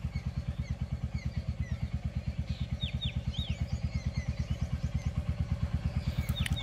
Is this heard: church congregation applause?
no